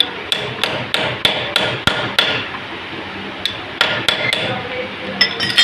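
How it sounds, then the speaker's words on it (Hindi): Hammer tapping a seal into a Honda CG 125 motorcycle engine: a series of sharp, close metallic blows, about a dozen in irregular rhythm with a brief gap midway and a quick cluster at the end. "इसको थोड़ा सा हथौड़ी की मदद से ठोक देंगे अंदर। ये बिल्कुल अंदर बैठ गई है। एक दफ़ा और ठोक देंगे।"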